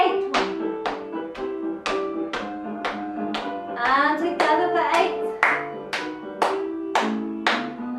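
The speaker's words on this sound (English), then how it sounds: "Let's have a clap for 8." A group in a creative dance class for older people and people with Parkinson's claps in steady unison, about two claps per second over backing music, while an instructor calls the count.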